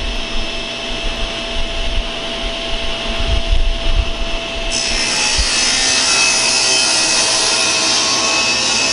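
Power saw cutting through wood on a crosscut sled, a loud steady whirring roar that intensifies partway through as the blade bites in, close and continuous with no talking.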